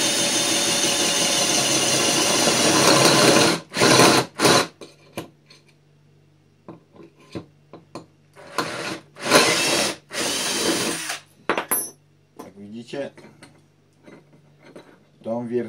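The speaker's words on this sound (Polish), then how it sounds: "Tą wiertarką z wiertłem szóstką nie mamy żadnych problemów." A power drill fitted with a Wolfcraft step drill bit cuts through material in several loud whirring bursts, starting and stopping between quiet gaps, with a voice speaking faintly during the pauses.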